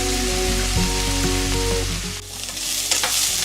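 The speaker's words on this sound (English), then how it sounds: "I'm going to add a little bit of olive oil so we can saute our peppers and our onions" Peppers and onions sauté in olive oil in a skillet, giving a loud, continuous crackling sizzle with clinks of a utensil moving them around the pan.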